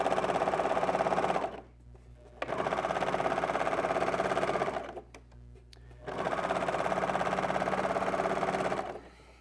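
Sewing machine running steadily as fabric is held under tension and fed through, three sustained bursts of rapid stitching separated by two short pauses, loud and close with no talk.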